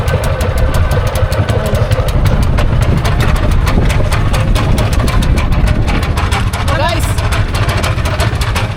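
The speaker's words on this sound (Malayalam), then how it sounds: "നമ്മളെ ബോട്ട് സ്റ്റാർട്ട് ചെയ്തു" A boat engine idles close by out at sea for the whole stretch, a continuous low, rumbling drone with a faint rhythmic chug and no pauses.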